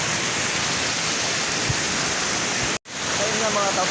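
Heavy rain roars steadily with strong wind in Mauban, Quezon, a dense, loud wash of noise that cuts out for a moment near the end before returning.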